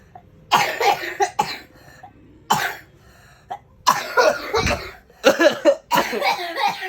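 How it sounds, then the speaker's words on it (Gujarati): Someone coughs in several harsh, close-up bursts, a few in quick succession, with short pauses between fits. "જો ઉધરસ ચાલુ થઈ"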